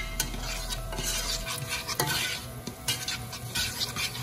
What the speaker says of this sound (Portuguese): Aqui, ó, tô fritando o meu bacon aí.